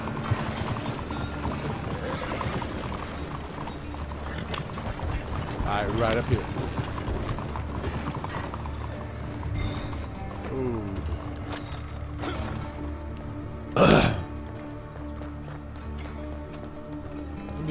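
Horses in Red Dead Redemption 2 clop along at a steady trot under a dense game mix, with people talking briefly over the hoofbeats and a sharp loud hit near the end.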